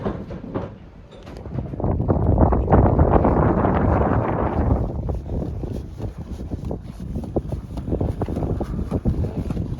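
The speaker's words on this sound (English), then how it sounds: "the wind's sort of flapping around a bit" Wind buffets a sailing boat and the microphone, a steady loud rushing roar that swells and eases in gusts, with no talking.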